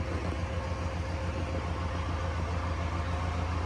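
A low, steady tractor engine idles nearby, its rumble continuous and even throughout with a faint rhythmic chug underneath.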